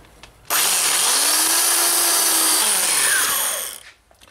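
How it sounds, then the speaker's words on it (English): Black & Decker power file grinding away rivets, one continuous loud abrasive whine lasting about three seconds that starts abruptly and winds down at the end, up close. "This particular one's a Black & Decker power file"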